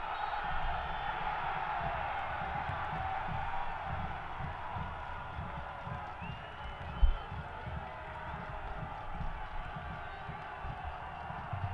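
Football crowd massed behind the goal at a Louisville City FC versus Richmond Kickers match, a steady roar of cheering and excited noise from a distance with one brief sharp thump partway through.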